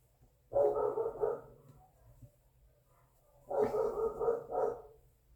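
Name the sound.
dog barking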